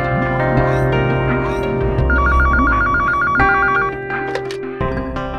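A landline telephone rings on a call, a steady electronic trill pulsing over background music in a dramatic indoor scene, loud and close for a couple of seconds.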